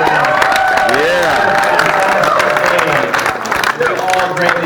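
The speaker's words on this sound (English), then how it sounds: "Give yourselves a round of applause right now for being here with us" Convention crowd in a large hall gives a sustained round of applause and cheering, loud and dense throughout, with voices shouting over the clapping.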